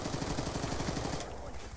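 Light machine gun fire in a Call of Duty match, a rapid rattling burst of shots that cuts off after about a second, loud and near.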